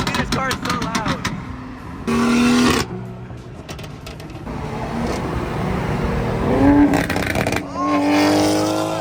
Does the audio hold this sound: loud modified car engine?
yes